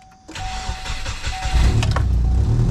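A Subaru Forester engine with an exhaust leak cranks and catches, then settles into a steady low rumble; a faint whine runs underneath. No talking.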